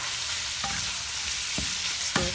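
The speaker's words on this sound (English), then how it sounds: "At pagkatapos po, ilalagyan na po natin uli yung beef." Beef is stir-fried in a pan with a continuous close sizzle and three distinct scraping clacks of a spatula against the pan, with no one talking.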